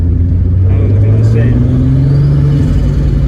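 Toyota MR2 Roadster with a turbocharged VR6 engine swap, driving with a loud close rumbling engine note that climbs in pitch as it pulls, with talk over it.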